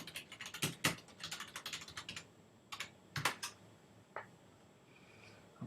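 Clattering computer-keyboard keystrokes as a short chat message is typed, quick bursts of close, crisp taps with brief pauses and a few isolated clicks near the end.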